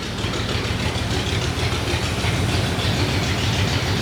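A 1977 Ford 4x4 truck, a barn find sitting for 20 years, idles steadily with a low, even engine rumble that holds close and constant throughout, with no voices over it.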